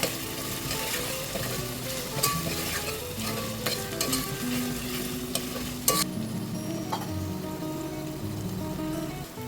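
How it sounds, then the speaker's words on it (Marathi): Ginger, garlic, chilli and coriander paste fries in oil for korma biryani: a loud, constant crackling sizzle with scraping stirs, a sharp clatter near six seconds, and tuneful background music running underneath. "आता ह्यामध्ये मी घालत आहे आलं लसण मिरची कोथिंबीरची पेस्ट, परतून घेऊया तेलावर।"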